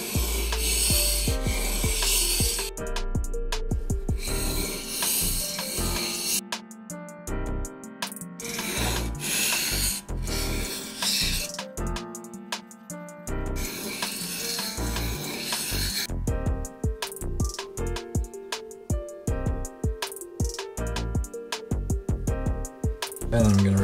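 A plane blade rubs back and forth on a sharpening stone in a steady, continuous rasping rhythm, close and fairly loud, with brief pauses between strokes.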